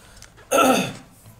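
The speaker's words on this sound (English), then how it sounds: "Excuse me for coughing and snoozing." One rough throat-clearing cough from a person with a severe cough and cold bursts out loudly and briefly, then quiet returns.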